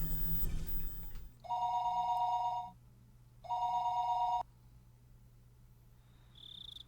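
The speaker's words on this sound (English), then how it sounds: "I looked up Rena's phone number on the contact list." A telephone rings during a call in the visual novel Higurashi When They Cry: two evenly spaced electronic trilling bursts, clear and fairly loud, followed by the start of a third tone, with no voices.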